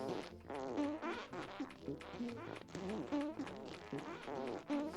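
Several people imitate fart sounds with their mouths, a dense run of overlapping buzzy, sputtering raspberries alongside voiced noises, loud and close throughout.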